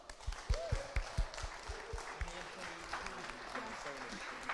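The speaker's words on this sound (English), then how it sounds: "Can you give them a huge round of applause?" Applause from the audience at a music event launch stays faint and steady in the background while a voice talks over it.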